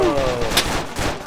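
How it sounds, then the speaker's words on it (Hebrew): Gunfire in the military game Arma 2, a short burst of sharp, loud shots layered with voices talking over the action. "ירו על הגג, על הגג."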